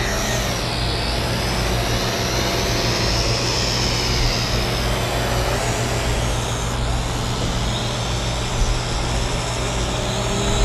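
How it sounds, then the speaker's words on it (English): Le-Idea IDEA7 foldable camera drone propellers spinning during auto takeoff, a loud continuous close buzzing whine that holds steady throughout, with no talking. "let's go ahead and do an auto takeoff again"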